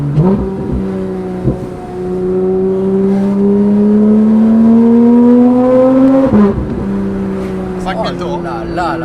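A Porsche 911 GT3 RS with a JCR exhaust revs loudly and close, the engine note climbing steadily then dropping sharply and rising again, with people talking over it.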